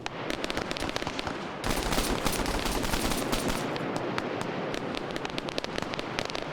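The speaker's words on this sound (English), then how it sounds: "We got a machine gunner here firing." A machine gunner fires in a video game battle with rapid, continuous crackling gunfire. It starts close and sharp, thickens into a dense roar after the first second and a half, then rattles on steadily to the end.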